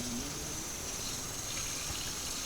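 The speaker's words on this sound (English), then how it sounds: "I'm just going to rinse all my fillets off really good" Tap water running steadily over herring fillets in a sink, a continuous broadband rush at moderate level with no talk.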